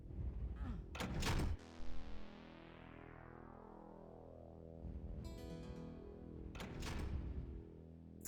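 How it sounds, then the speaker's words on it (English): Locked door in the Ashes 2063 video game rattling and thudding as it fails to open, two heavy knocking bursts close together, then a lingering low synthetic drone with a second muffled clatter later. "the sound of not being able to open doors"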